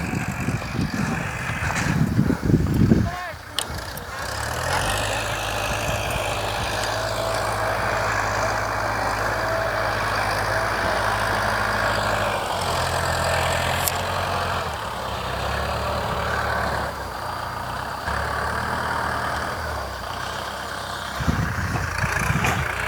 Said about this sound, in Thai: ลุงพลขับรถไถนะทุกคน